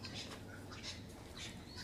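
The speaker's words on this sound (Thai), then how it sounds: "เห็นไหมนกมันร้องยั่วอยู่น่ะ" A bird in Australia gives a few faint, short chirps spaced through a quiet outdoor background.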